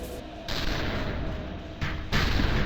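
Gunfire in the video game Severed Steel, sharp bursts of shots with booming impacts, loud and close, coming in quick clusters with brief gaps between them.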